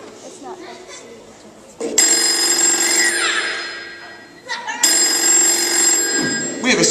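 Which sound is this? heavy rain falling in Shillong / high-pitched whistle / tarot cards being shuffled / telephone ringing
telephone ringing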